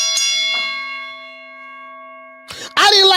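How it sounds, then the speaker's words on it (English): A struck bell rings out with a bright clang and a long, slowly fading metallic tone, followed by a second quick strike and a voice at the end. "Let's hit the Ali bell for Karma"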